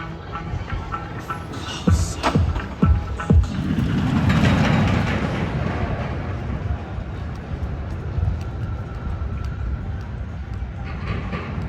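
A roller coaster train rumbles along its track at Six Flags Great Adventure with a few sharp clattering knocks early on, then a steady rolling roar that continues at moderate volume.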